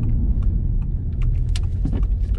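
Heard from close by, the engine of a 310-horsepower Audi TTS runs with a heavy, steady low rumble, along with a few light clicks and rattles.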